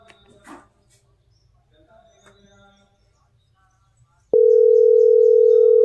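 A telephone call tone sounds as a wife phones her husband: a loud, steady, continuous tone begins suddenly near the end after a stretch of faint room sounds.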